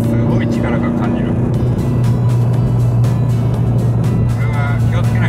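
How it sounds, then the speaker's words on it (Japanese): A Suzuki Swift (33-series) cruising in sixth gear gives a steady low engine drone with road rumble as it accelerates, constant and close from inside the cabin, with a voice talking over it. "6速でもアクセル踏むとブーッとこう加速しようとする感じが出てるんですよ"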